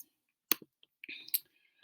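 Computer mouse clicks while checking word definitions: a couple of sharp, close clicks separated by quiet, followed by brief soft tones, with no talking.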